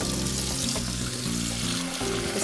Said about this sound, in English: Okay, very hot tap water.